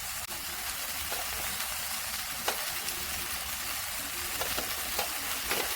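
Onion frying in a pan with ground pepper and turmeric, a steady dense sizzle running throughout with occasional soft clicks of stirring, close and continuous with no voices.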